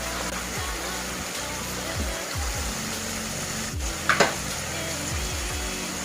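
Onions fry in hot oil in a home kitchen as a spoon scrapes and stirs them, soft sizzling under a few quiet knocking strokes and a short sharp clatter partway through.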